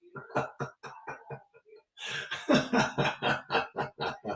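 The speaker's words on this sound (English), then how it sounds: "I have to just cough." A man's on-air coughing fit during a live radio show, a rapid series of harsh, close coughs at first, then a longer run of louder, chesty coughs after a brief pause.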